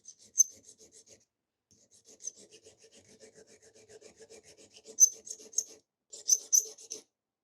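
Ninja blender blade being sharpened on a 400 grit whetstone, with repeated scraping rubs and short rasping strokes, a brief pause partway through, then louder strokes near the end.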